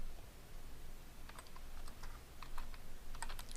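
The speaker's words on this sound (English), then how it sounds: "We're going to type in our" Fingers tap out a password on a computer keyboard. A short run of light, quick key clicks sounds close by over a low steady hiss, with no voice.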